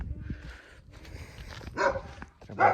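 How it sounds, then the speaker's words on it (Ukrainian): Dogs barking in a residential yard: a few sharp barks and yips stand out over a dull, rumbling background, fairly close and loud in short bursts. "Коли собаки гавкають"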